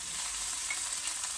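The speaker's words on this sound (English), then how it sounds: "Just put a teaspoon into the pot and saute that up in the oil for a bit." Cumin seeds sizzling in oil in a pot, a brief, even, hissing crackle at moderate volume with no voices.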